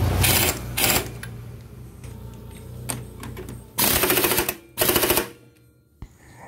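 Bolt on a scooter CVT cover being tightened with a pneumatic impact wrench, loud rattling bursts in several short bursts at close range, with workshop clatter between.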